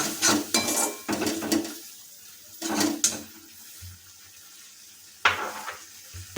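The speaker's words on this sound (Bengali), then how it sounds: "অনেকক্ষণ ধরে আমরা নাড়িয়ে নিচ্ছি হাতা দিয়ে" A ladle stirs a mixed vegetable curry with pumpkin and lentil dumplings in a pan, giving several bursts of scraping and clatter separated by quieter gaps with a faint sizzle.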